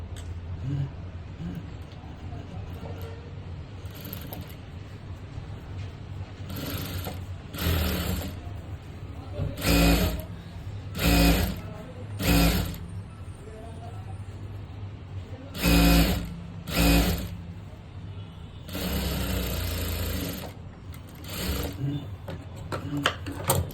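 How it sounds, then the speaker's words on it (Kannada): A sewing machine stitching a puffed blouse sleeve runs in short mechanical bursts of whirring stitches, separated by quiet pauses, with a couple of longer runs near the end. "ಈಗ ನಾನು ಮೇಲಿಂದ ಇಲ್ಲಿ ಒಂದು ಸ್ಟಿಚ್ಚನ್ನು ಹಾಕ್ಕೊತೀನಿ"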